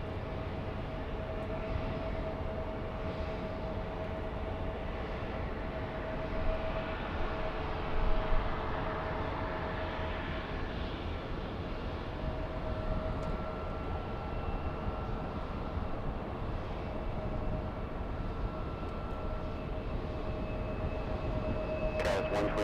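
A SkyWest airliner taking off at LAX, its jet engines a broad, steady roar that holds loud and even throughout with no voices.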